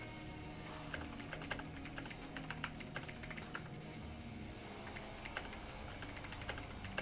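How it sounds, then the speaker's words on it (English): Steady rapid clatter of keys on a computer keyboard as captions are typed during a live esports broadcast, soft and continuous with irregular louder taps and no voices. "Typing in these captions."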